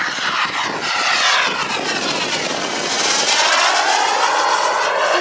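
A Viperjet model jet aircraft rolls into knife-edge flight overhead, its turbine a loud, continuous roaring whoosh with a sweeping pitch shift as it passes, with no talk.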